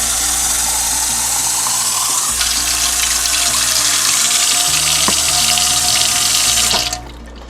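Hot water runs in a steady, loud, close stream from a tap while a casserole is being prepared, with a brief clunk partway through and the flow stopping abruptly near the end.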